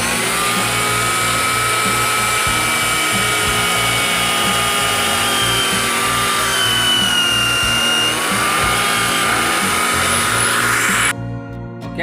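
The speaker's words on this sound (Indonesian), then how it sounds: "Oke lanjut, kita bor ya." A power drill whines steadily and loudly for about eleven seconds, grinding into a coconut shell being made into a ring, then cuts off abruptly.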